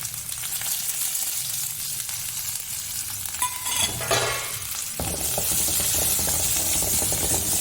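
Sliced shallots, green chilies and curry leaves fry in hot oil in a pan, a steady bright sizzle with stirring scrapes, the hiss briefly dipping and then surging louder and fuller partway through.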